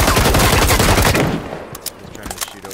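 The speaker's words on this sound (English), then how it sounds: "He's trying to shoot over that wall right where you are." Rapid automatic gunfire in a shooting video game, a loud dense burst for over a second that gives way to fainter scattered shots and clicks.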